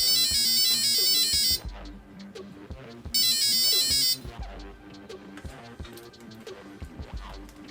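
Two bursts of a high-pitched electronic beeping tone from a 1/10 scale RC crawler's controller, each about a second long, separated by quieter mechanical clicks and rattling.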